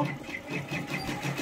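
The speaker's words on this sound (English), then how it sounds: "It's just doing an outline stitch, so I don't need more than this. We're going to let it finish up." An embroidery machine stitches an outline on fabric with a steady, continuous mechanical whir and rhythmic needle pulses, close by and moderately loud, with no voices.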